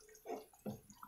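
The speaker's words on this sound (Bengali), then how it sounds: "এখন আমি পরিমাণ মতো জলটা দিয়ে দেব, বেশি দেব না।" Water is poured into a pot of mung dal cooked with bone-in meat, giving two short splashy gurgles close by, with no talk.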